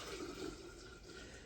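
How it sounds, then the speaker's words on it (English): Homemade chicken bone broth pours from a large pot into a mason jar, a brief, faint, steady liquid trickle with a gentle filling tone. "you gently pour it into your mason jar."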